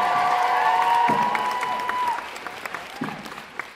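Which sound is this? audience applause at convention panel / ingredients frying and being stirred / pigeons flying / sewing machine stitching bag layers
audience applause at convention panel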